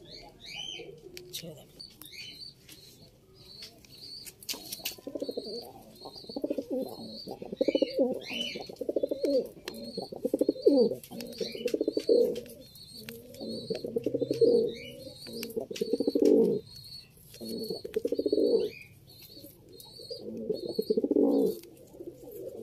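Pigeons in a loft coo again and again in low, rolling phrases, close and fairly loud, with faint higher chirps scattered above and some voices in the background.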